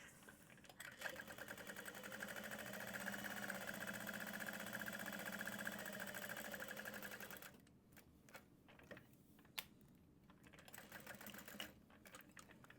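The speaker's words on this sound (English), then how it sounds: "So you want to sew around all 4 sides of your strap." A sewing machine stitches around all four sides of a fabric tote bag strap, a steady rapid mechanical whir for about seven seconds, then stops, with scattered clicks and handling noises after.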